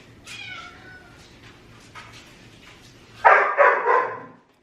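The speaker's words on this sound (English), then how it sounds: "There was a meow." A cat meows a few times at moderate volume, followed by a short burst of louder dog barks near the end.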